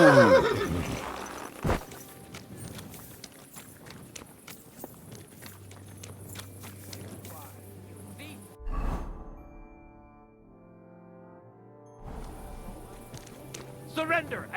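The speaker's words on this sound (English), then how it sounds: "Easy, good horse." A horse in the medieval game Kingdom Come: Deliverance II whinnies loudly at the start and snorts again midway, while hooves clip-clop at a walk and a rider's voice soothes it in short phrases.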